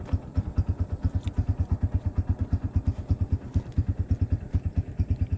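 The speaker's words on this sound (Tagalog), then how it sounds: "Pagtutunog ng motor, eh, ayan na, ang bilis." A motorcycle engine runs close by at a steady idle, its fast, even low thumping pulses continuing throughout with no talk.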